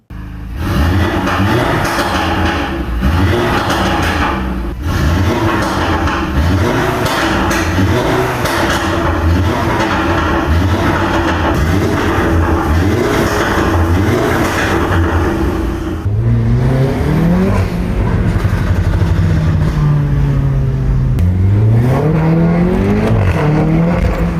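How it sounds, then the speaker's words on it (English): An Audi TT sports car engine runs and revs loudly close by, alone with no talk. It gives repeated rising and falling pulls with a rough idle between them, then longer sweeping revs toward the end. "And the engine running perfectly like it never stopped."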